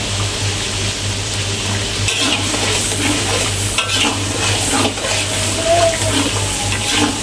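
Sambal with lemongrass fries and sizzles steadily in a pan, a dense, continuous crackle with occasional stirring scrapes and a low steady hum beneath.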